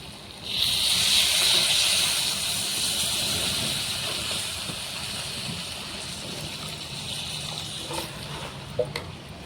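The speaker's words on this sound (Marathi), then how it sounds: "ते बोंबील मी तेलामध्ये भाजून घेतले, बघा। त्यात थोडंसं पाणी टाकायचं आहे।" A little water splashed into a pan of dried Bombay duck fish already fried in oil, bursting into a loud, sharp hiss that eases into steady steaming and sizzling, with a few faint clicks near the end.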